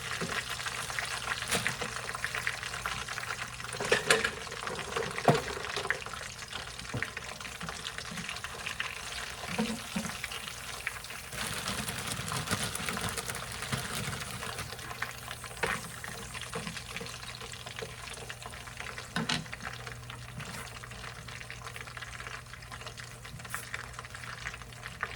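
French fries sizzle and crackle in hot grease, a continuous fine bubbling hiss broken by scattered sharp pops and a few louder clatters, heard fairly close with no speech.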